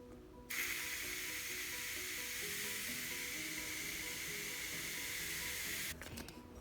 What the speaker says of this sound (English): It actually has this pump on the inside that lets you get every little bit out